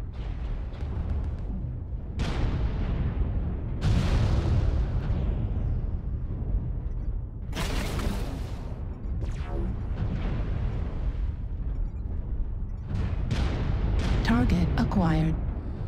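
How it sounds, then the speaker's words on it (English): Artillery strike explosions in MechWarrior Online, with a King Crab mech in battle: repeated loud booms and bursts land throughout, layered over constant rumbling battle noise and a synthetic cockpit voice. "Artillery strike activated."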